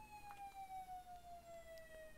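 An ambulance siren in a video game wails faintly and steadily, its pitch slowly dropping, with nothing else heard.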